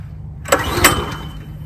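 A small engine with a choke and kill switch is cranked to start, giving a brief sputtering burst of about a second after a quiet moment.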